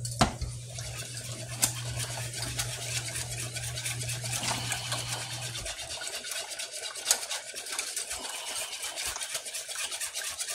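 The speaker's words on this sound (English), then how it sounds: "now we're going to grab our whisk and we are going to stir this repeatedly" A whisk stirs milk and half and half in a metal pot, producing continuous scraping and swishing with occasional sharper clinks against the pot, fairly close and steady throughout.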